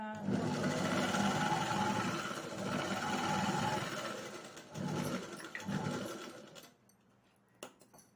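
Sewing machine stitching along a marked line on lining fabric, a continuous close motor whir with brief pauses before stopping, followed by a quiet tail and a faint click.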